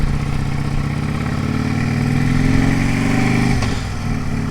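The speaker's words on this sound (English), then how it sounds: "There goes my Mustang." Ford Mustang with a 5.0 Coyote engine passing close, a loud continuous engine drone that rises slightly in pitch, then drops away sharply near the end.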